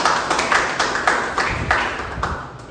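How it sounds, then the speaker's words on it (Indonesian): A small group claps in a classroom or training session, with about a dozen even, rhythmic claps sounding close and moderately loud before they taper off. "Tepuk tangan untuk Fitra."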